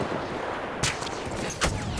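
Two distant gunshots in the video game Battlefield 1 crack out roughly a second apart over a continuous noisy battlefield rumble, both short and moderately loud.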